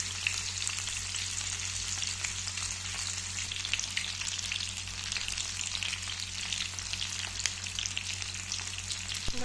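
Black pomfret fish deep-fry in hot oil, a dense and even bubbling sizzle held close and loud throughout, with a low steady hum underneath and no voices.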